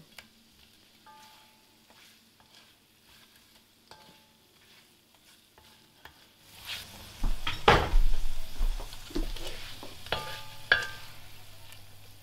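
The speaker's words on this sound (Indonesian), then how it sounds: "Akhirnya kita masukkan si dendeng yang tadi sudah digoreng" Fried dendeng tossed in a cast iron wok, starting with quiet clinks before loud sizzling and metal spatula scrapes and clanks take over in the second half.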